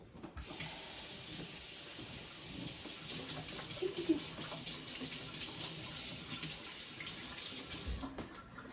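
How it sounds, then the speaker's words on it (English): Tap water runs steadily into a sink while hands are washed, a continuous close splashing rush that stops abruptly near the end. "I need to wash my hands"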